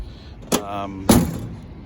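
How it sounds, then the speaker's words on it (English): The door of a 1974 Triumph Spitfire is shut twice: two sharp, close thuds about half a second apart, each with a brief metallic ring. "Doors close pretty good."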